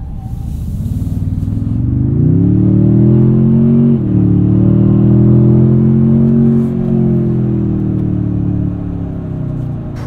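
Toyota Tundra TRD Pro i-FORCE MAX engine in sport mode, piped-in engine sound filling the cabin: a loud, steady rising drone of harmonics under acceleration, with a brief dip around the four-second mark, heard alone without talk.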